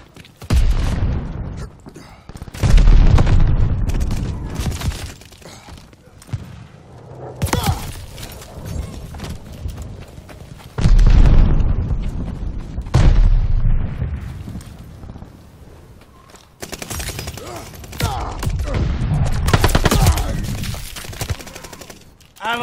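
Grenade explosions and bursts of gunfire in the video game Call of Duty: Vanguard, loud booming blasts and rattling fusillades that come in repeated waves and fade to brief lulls between them.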